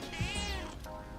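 A cat in the video game Persona 3 Reload gives a single drawn-out meow that rises and then falls, heard clearly over quiet game ambience.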